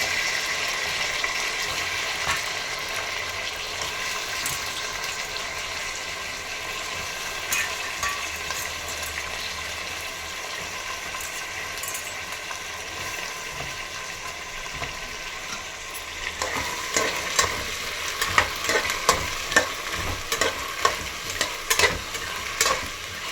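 Potatoes and grated jaggery fry in a pan while being stirred, a continuous close sizzle with scraping strokes of the spoon that grow busier and more clattery toward the end; no one speaks.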